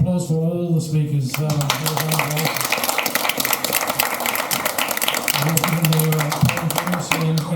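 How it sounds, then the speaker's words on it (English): Audience applause for speakers at a live event in Adelaide: steady, dense clapping from a smallish crowd fills most of the stretch, while someone speaks over it at the start and again near the end. "And a big round of applause for all the speakers."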